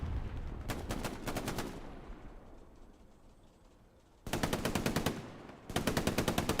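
Machine gun fire in the video game Hell Let Loose, a loud close burst of rapid automatic shots, a lull with a fading tail, then two more sustained bursts, with no talk.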